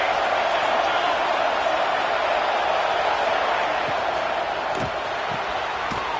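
A football stadium crowd at a Georgia vs Colorado game roars on third down in a constant, dense wash of noise, with a few faint thumps near the end.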